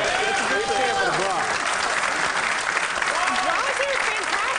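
A television studio audience cheers and applauds steadily for several seconds, a dense, continuous wash of clapping with whoops rising over it, fairly loud and close, with no clear break.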